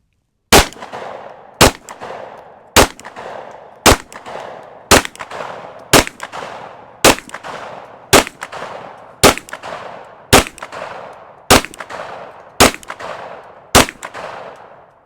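SIG P365 FUSE pistol fired at a range, fourteen loud sharp shots at a steady pace about one per second, each cracking and ringing out briefly before the next.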